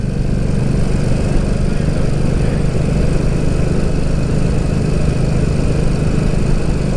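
A Ducati Supersport S motorcycle ridden at about 30 mph, a loud steady engine drone with constant wind rush, unbroken throughout.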